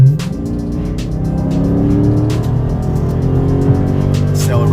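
Dodge Daytona 392 in track mode accelerating hard onto a highway entrance ramp, a loud, close V8 roar climbing steadily in pitch with a deep rumbling exhaust note and brief sharp crackles.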